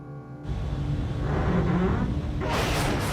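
An aircraft's rear pressure bulkhead snaps, giving a loud, sustained rumbling roar with a sharp rushing burst near the end, continuous and dense throughout with no voices.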